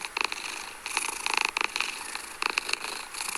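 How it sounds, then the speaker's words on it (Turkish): Cat purring as it is petted in the horror game Dark Riddle: a steady, close rumbling purr with brief brighter bursts, no talking over it. "Ya kediyi sevelim bir."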